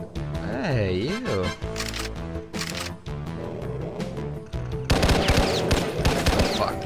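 Enemy gunfire in the video game Doom II during play of a custom map, rapid shots and bursts mixed with loud game effects, with someone talking over parts of it.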